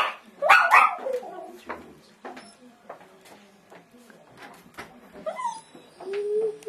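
Puppies bark in short, sharp yelps in a couple of bursts at a home during dinner time, along with faint bird cooing and quiet background sounds.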